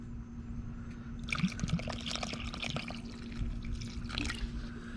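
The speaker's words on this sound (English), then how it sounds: "Now that it's been about 5 minutes, you're gonna add some more water." Water pours into a campfire bread dough mix outdoors, a soft close trickle and splash running steadily for several seconds, with no talking.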